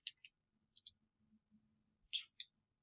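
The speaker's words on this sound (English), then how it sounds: "I'm literally just typing in every single data point so my calculator can calculate all these things" Calculator keys tapped in short bursts while data points are entered, a few quick clicks at a time separated by pauses, close and fairly quiet, with faint low background hum.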